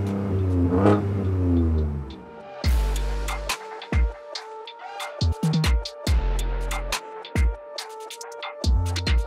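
A 2025 Ford Ranger Raptor V6 accelerates hard in repeated bursts, a deep rising engine roar broken by gear shifts and sharp cracks from the exhaust, loud and alone.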